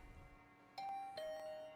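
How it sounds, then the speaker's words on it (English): A doorbell in The Hundred Line: Last Defense video game chimes twice in a clear ding-dong, the two tones ringing out close and bright over a quiet hum before fading. "Wait, the doorbell still works?"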